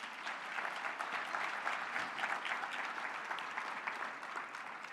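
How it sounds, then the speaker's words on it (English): Steady business luncheon audience applause from many hands, sustained and even throughout, moderately loud with no voices standing out. "Let's give a clap for yourselves."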